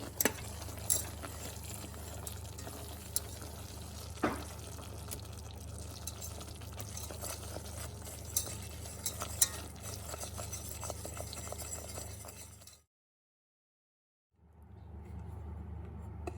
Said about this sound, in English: Now add in 1 stick of butter and stir until it is melted and incorporated.